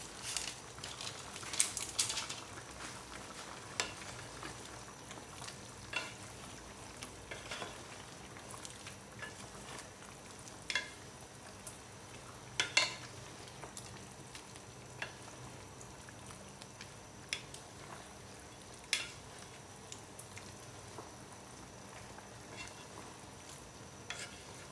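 Chicken and vegetables fry quietly in a pan while being stirred, a soft steady sizzle broken by scattered light pops and scraping clicks of the spoon, with no talking.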